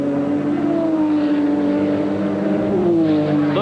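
Porsche GTP prototype race car at Laguna Seca, a loud steady engine note holding high revs with a brief pitch drop near the end as it passes close by.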